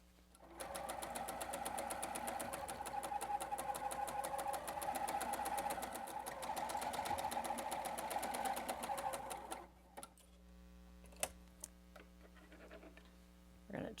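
A sewing machine runs continuously while piecing a quilt block for a star runner, making a loud, even, rapid stitching drone for about nine seconds. It then stops, leaving a quiet hum broken by a few light clicks.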